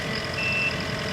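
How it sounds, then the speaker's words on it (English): A truck's reversing alarm beeps steadily while it backs up on a work site, with a low engine rumble underneath, loud and close. "beeps the whole time so that people know you're moving so you don't run over them"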